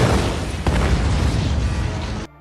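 A grenade blast in a film scene, thrown into an alien's mouth: a loud, sustained booming roar with a fresh burst partway through, filling the whole clip before cutting off abruptly near the end.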